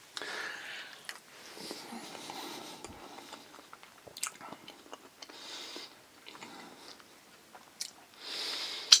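Close, soft chewing of a potato, corn and cheese bowl that has lost its crunch, with moist irregular bites and mouth noises that rise and fall, no speech.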